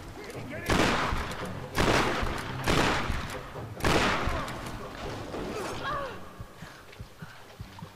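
Shotgun blasts from Tomb Raider (2013) game combat, four loud booming shots about a second apart, then quieter scattered game noise and a few small clicks as the firing stops.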